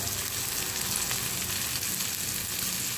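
Noodles with cabbage and seasoning fry in a hot pan, a dense, steady, loud sizzle and crackle running unbroken and close, with no talking.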